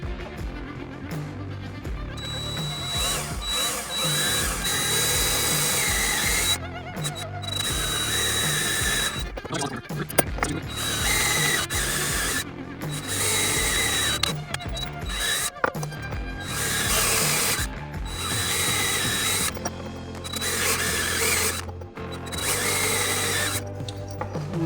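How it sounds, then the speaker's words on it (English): A power drill with a small bit bores starter holes for a Bimini top mount on a jon boat, whining in repeated bursts separated by short pauses, loud and close. "Then we're going to take our drill and we're going to start with a small drill bit"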